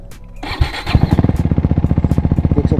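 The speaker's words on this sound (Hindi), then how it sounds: "अच्छी लग रही बाइक। तो आपको मैं आवाज़ सुनाता हूँ" A KTM RC 390 motorcycle running without a muffler, a few sharp blips then a loud, fast, steady staccato exhaust pulse close by, with no talking.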